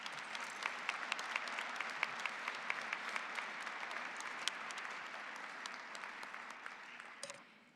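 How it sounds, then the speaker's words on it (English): Sustained applause from an audience at a college nursing pinning ceremony for the awardees, steady dense clapping with a few sharper claps standing out, fading slightly toward the end. "Let's give a round of applause for all of our awardees"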